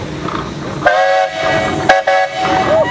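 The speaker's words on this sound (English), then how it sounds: "All right, Sam, you got a whistle." A steam engine at a threshers show in Darke County gives two loud, sustained whistle blasts close by, with a short break between them.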